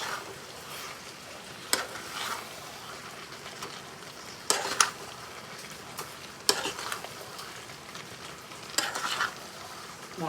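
A spice mix is stirred into raw mango pickle frying in a pan, a steady close sizzle with a spoon scraping and clicking against the pan in irregular strokes.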